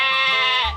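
A single drawn-out bleat, loud and close, holding steady before trailing off abruptly.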